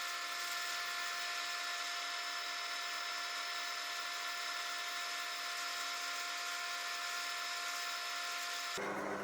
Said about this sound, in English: I'm just giving the outside surface an initial sanding before it's inspected for defects